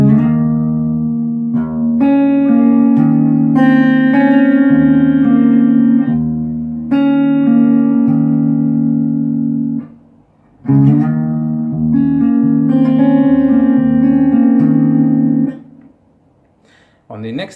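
Slide guitar plays the intro of a song in sustained, gliding notes over a low held bass. There are two long phrases with a short gap between them, close and fairly loud, and it fades at the end.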